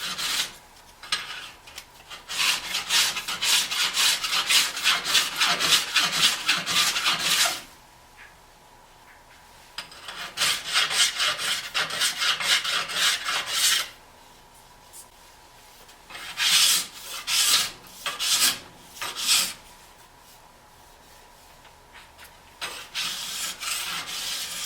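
A file worked along the steel edge of a new ski to cut a bevel, producing long, steady rasping strokes close by, in sustained runs separated by short pauses.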